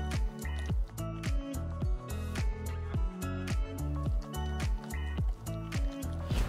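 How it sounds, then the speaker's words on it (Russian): Choux cheese dough being mixed after eggs are added one at a time, with a soft, regular squelching and slapping rhythm of sticky dough stirred in a bowl, close and fairly quiet. "Тесто остыло, начинаем вводить по одному 3 яйца"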